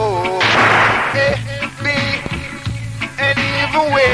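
Gunshot sound effects fired at a Coxsone versus Metromedia sound system clash ring out as loud repeated bursts over a dancehall reggae backing, with sung vocals weaving between them.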